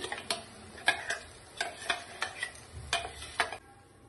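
Masala dondakaya (ivy gourd) curry frying in a pan, with a soft sizzle under a series of light, fairly regular spatula clicks and scrapes against the pan, fairly quiet and close.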